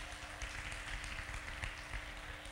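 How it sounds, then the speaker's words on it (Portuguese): An audience applauds during a church study session on finances, a steady wash of clapping throughout at moderate volume with no voices. "Uma salva de palmas para ele."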